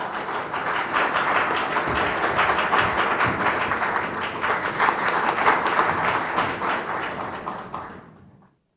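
A crowd at an architecture forum gives loud, sustained applause welcoming the Minister of Land, Infrastructure and Transport to speak. The dense clapping holds steady for several seconds, then tapers off and stops.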